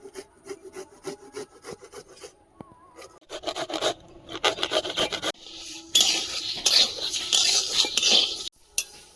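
Moong dal dry-roasting with fennel, cumin and a halved bay leaf in a dry hot wok, stirred in repeated gritty scraping strokes that start sparse and grow louder and busier toward the end.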